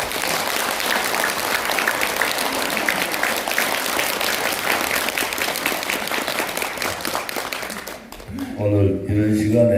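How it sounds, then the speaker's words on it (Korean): A seminar audience applauds loudly and steadily for about eight seconds, then the clapping stops abruptly and a voice begins speaking in Korean. "박수 부탁드리겠습니다"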